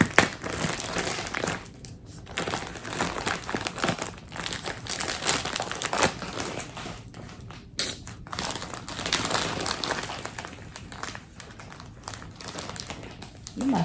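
Packaging crinkles and crushes steadily as a fabric wholesale package is unboxed, loud and close, with sustained rustling bursts throughout and no talk.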